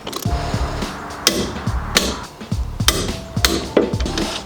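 Wrench tightening bolts on a Ford Pinto front suspension, a close series of sharp metallic clanks and ratcheting clicks in irregular bursts, fairly loud, with no talk.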